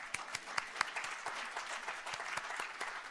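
Audience applause for a congressman's same-sex marriage announced in a talk, a fairly quiet burst of many hands clapping with a few sharper individual claps standing out.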